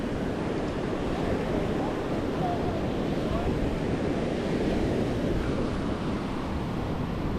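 Ocean surf rolls onto the beach at Cape Point on Hatteras, a constant broadband roar of raging waves mixed with wind buffeting the microphone, loud and unbroken with no voices.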